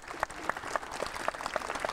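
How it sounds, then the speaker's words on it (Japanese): An audience applauds at a Japanese martial arts grand champion competition, steady dense clapping from a crowd filling the hall, with a few sharper claps standing out in a loose rhythm. "もう一度盛大なる拍手をお願いいたします。"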